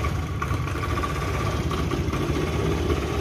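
A Honda Vario 110 motorcycle engine idles with a steady, close low rumble and faint knocking vibration, holding even throughout with no talking.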